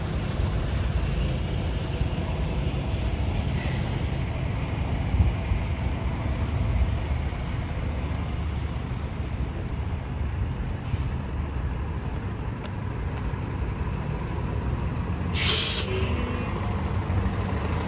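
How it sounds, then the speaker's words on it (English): A city bus bound for Bramley Terminal drives along Jane Street near Steeles Avenue West in Vaughan, Ontario, under steady roadway noise, with a short sharp air-brake hiss near the end. "So this bus is going towards Bramley Terminal."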